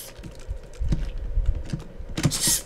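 Spacebar and keys on a computer keyboard tapped repeatedly while playing Super Meat Boy, several close clicks and clacks in an uneven rhythm, with a brighter burst near the end and no speech.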